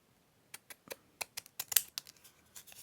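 Scalloped-edge scissors cutting paper for a junk journal, a series of about a dozen close, crisp snips in an uneven rhythm that quickens toward the middle, with near silence around them.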